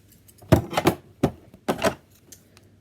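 Scissors cut through recycled clothing fabric in a craft project, making a few crisp, close snips in two short clusters with quiet pauses between and no talking.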